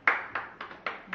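Five or six separate hand claps sound close and moderately loud at a birthday party, spaced evenly and a little hesitantly, each one sharp and quickly fading, with no talk over them.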